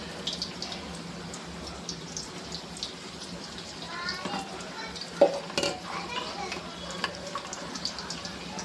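Ridge gourd bhaji fritters fry in hot oil and are turned in the pan, giving a steady moderate sizzle with a few clattering stirs and scrapes, while a faint voice comes through at times.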